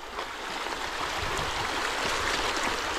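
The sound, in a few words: river water flowing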